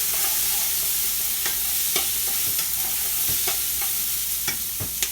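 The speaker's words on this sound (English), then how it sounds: "Just saute this up a little bit." Potato soup ingredients sautéing in a pot, a loud continuous sizzle broken by frequent scraping stirs and clacks of the utensil against the pot, with no talking.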